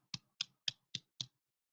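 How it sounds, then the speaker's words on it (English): Five slow, evenly spaced soft hand claps, a sparse, deliberately unenthusiastic golf clap, close and alone in quiet surroundings. "You get a golf clap."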